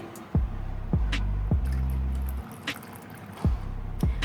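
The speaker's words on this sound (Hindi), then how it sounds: "इसमें पानी थोड़ा सा ऐड करेंगे" Small amounts of water added to tamarind pulp for a chaat chutney, a series of short liquid plops and drips with gurgles in between, close and fairly quiet, no talking.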